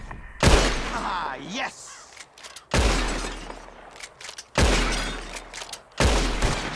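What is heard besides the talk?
gunshots shattering bottles in Red Dead Redemption 2 video game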